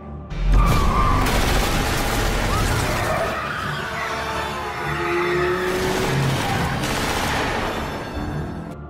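Cars race in a chase with shots fired from another car, heard as a dense, loud roar of engines and screeching tires under overlapping bangs and booms, with the din holding steady from start to finish.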